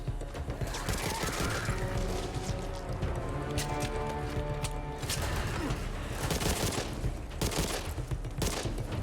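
Gunfire aimed at zombies in the co-op shooter Back 4 Blood, with rapid shots and mechanical weapon clatter running steadily through the game's dense, loud combat soundscape.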